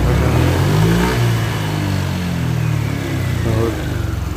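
A repaired Honda Vario 125 scooter engine revs steadily up close, its loud, continuous mid-pitched drone rising and falling through a few throttle blips.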